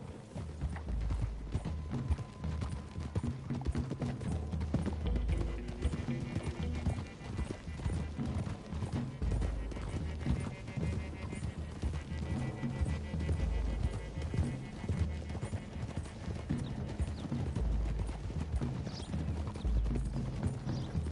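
Horse hooves clip-clop steadily at a trot in the video game Red Dead Redemption 2. The beats are dense and close, with a few whinnies and faint voices under a constant outdoor rumble.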